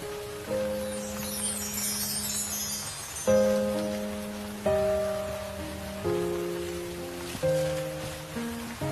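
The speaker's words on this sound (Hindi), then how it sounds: "कई दिनों से लगातार बारिश हो रही है।" Steady rain hisses in the background beneath a slow, sustained melody of held musical notes.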